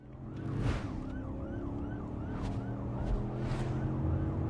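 A police car siren wails in a music video, a repeating rising and falling tone over dense music, a few swooshing whooshes passing by.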